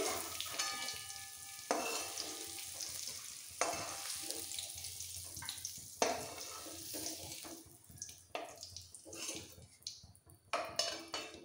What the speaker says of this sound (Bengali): ভাপানো ফুলকপি ভাজা হতে একদম সময় নেবে না